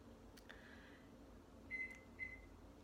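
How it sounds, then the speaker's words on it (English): A microwave oven switching on and off from a bad plug, giving a few quiet electronic beeps: one faint tone early, then two short beeps near the end over a low steady room hum. "My microwave is going off now."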